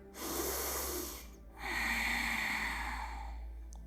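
Two long, audible yoga breaths during a Navasana boat-pose class, a breathy inhale then a steadier, fuller exhale after a short pause, close and alone without talk.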